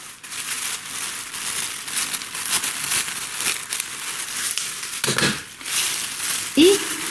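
Thin plastic film from a small bag crinkles in broadband rustling bursts as it is draped over a phalaenopsis orchid cutting on a cut flower spike, close and steady throughout with a louder crackle near the end.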